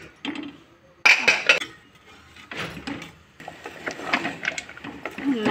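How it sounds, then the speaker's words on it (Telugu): A pot lid is lifted off mutton curry cooking for ragi sangati, giving a few sharp metallic clinks and scrapes in short bursts, with a voice talking between them. "ఆ లోపల మూత తీసి చూద్దాం"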